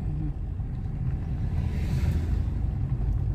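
A car engine descending a steep ghat road at speed, a steady close rumbling drone with little change in pitch throughout.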